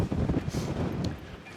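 Wind buffets the microphone at a marina in Copenhagen, a rough low rumbling gust that fills the short moment with steady roar and no clear voices.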